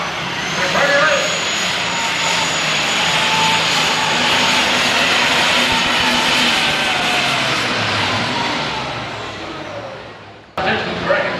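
A super stock tractor engine at a 1993 NTPA Grand National tractor pull in Canfield, Ohio, roars loudly and continuously for several seconds before fading, with a crowd and an announcer's voice mixed underneath.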